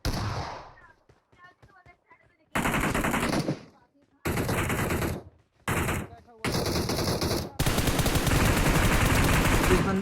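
In a battle royale mobile game fight in a Conqueror-tier lobby, heavy automatic gunfire comes in loud, sustained bursts separated by short gaps, with a faint voice at the start.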